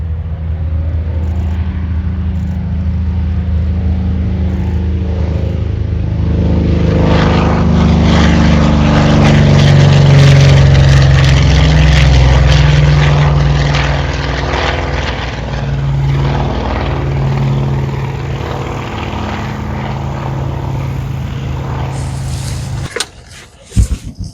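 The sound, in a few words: A-26 propeller aircraft engines on the runway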